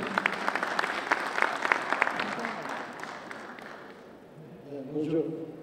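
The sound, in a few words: audience applause for speaker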